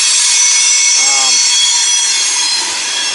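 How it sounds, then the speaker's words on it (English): A loud passing train roars continuously with a bright metallic wheel hiss, while someone speaks briefly under the noise near a riding lawn mower being repaired. "excuse the loud noise of the train"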